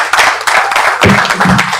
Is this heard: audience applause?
yes